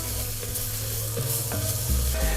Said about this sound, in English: Next step is to add 1 tablespoon of flour. And then we're gonna get that nice and incorporated with all the butter.